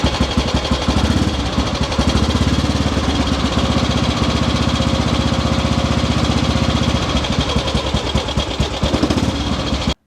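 A restored motorcycle engine runs after being fired up with its electric starter, a loud, steady, rapid putter with a coarse mechanical rattle, close and continuous with no talking.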